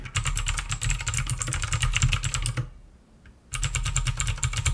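Rapid, loud clicky keystrokes from an ABKO K590 mechanical keyboard with blue switches, typing steadily, pausing briefly for about a second, then resuming at the same brisk pace.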